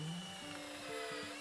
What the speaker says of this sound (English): Brooke and Carol drill clearance holes through the ends of 2 boards.